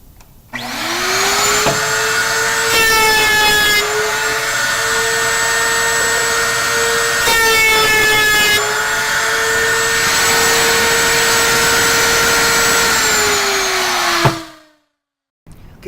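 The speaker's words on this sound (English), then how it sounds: "we're going to groove the bottom of the drawer" A power tool cuts a groove in the bottom of a drawer while assembling a Grass ZBox drawer system. It is a loud, steady motor whine running for about fourteen seconds, with brief rattling stretches, then spins down and stops.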